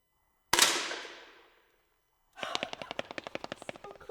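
Air rifle fired by pulling the trigger, one sharp loud close shot that rings and decays over about a second. Silence follows, then a rapid series of clattering clicks.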